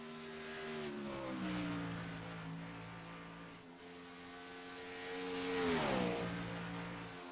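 A race car on a qualifying lap at Daytona International Speedway, its engine droning steadily with shifting pitch, rising and falling as it circles, heard at a distance with no talk.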